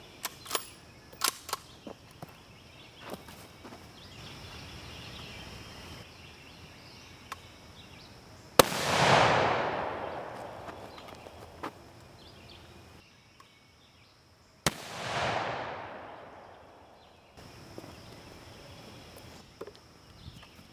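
Two sharp, loud rifle shots from a 20-inch barrel firing M855 green tip rounds at an armor plate ring out outdoors several seconds apart, each followed by a long rolling echo, with softer clicks and handling noises before them.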